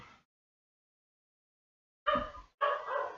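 Dogs bark indoors in three sharp, loud barks, one brief bark followed by silence and then two close barks in quick succession, with no speech.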